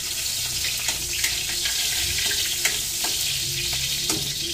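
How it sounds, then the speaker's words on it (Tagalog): Garlic sizzles steadily in a hot pan at a restaurant kitchen, with a dense frying hiss and occasional sharp spatter pops and utensil clicks, close and continuous, no voices. "Igisa mo tayo ng bawang."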